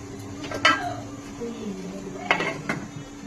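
A lid lands on a momo steaming pot with a couple of clear metallic clanks and a lighter clink, close by over a low steady hum.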